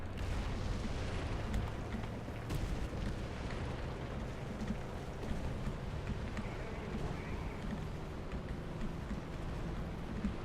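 A tank fires a smoke screen shell in the War Thunder video game, a dense rumbling roar with a few dull booms that holds steady for the whole stretch, no talk.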